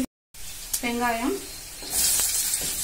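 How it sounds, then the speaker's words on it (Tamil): Onions sauté in hot oil with mustard seeds, urad dal, garlic and curry leaves for tomato thokku, a close steady sizzle that swells near the end, with a brief voice partway through. "வெங்காயத்தை நல்லா வதக்கிக்கோங்க, அப்பதான் தொக்கு நல்லா இருக்கும்."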